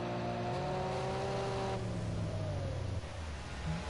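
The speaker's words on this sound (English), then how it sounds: "Buzzes the engine for good measure." A Group A touring car at Brands Hatch Indy buzzes its engine, a revving tone rising and falling against a steady background hum with no talk over it.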